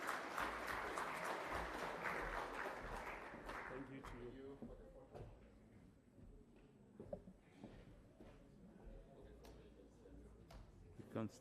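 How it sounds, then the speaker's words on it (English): Applause from an audience at a formal afternoon presentation on digitalisation and youth engagement in elections, dense and steady at first, then thinning into scattered claps with background murmur and voices. "Can we give him a round of applause,"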